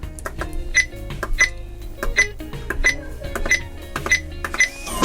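A Rexmeo biometric two-gun safe plays a quick run of electronic beeps during unlocking, about eight short tones spaced unevenly over clicks and rattles, close and fairly loud.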